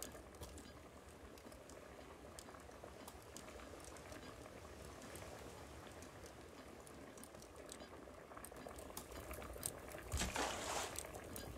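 A cooking pot or water purifier bubbles at a steady boil in the survival video game Raft, a continuous seething and popping that runs throughout, with a brief louder splash of liquid near the end.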